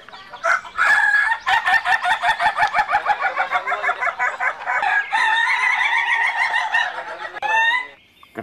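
Chickens cluck in a rapid, steady run of calls while a rooster crows loudly near the end, all close and clear with no voices over them.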